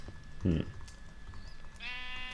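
A sheep bleats next door, a short harmonic call near the end following a brief louder sound, over quiet room background.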